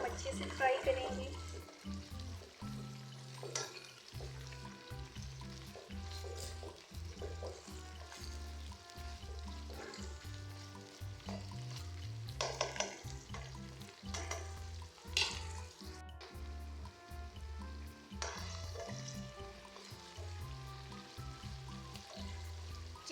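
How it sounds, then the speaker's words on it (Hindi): Chicken frying with onions in a karahi: loud, steady sizzling and spitting oil with intermittent scraping and stirring clatter, close up throughout. "चिकन को भी हम अच्छे से फ्राई करेंगे।"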